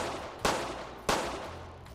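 Two sharp pistol shots ring out in the Roblox War of the Worlds game, spaced about half a second apart, each with a quick decaying tail, and a third sound begins right at the end.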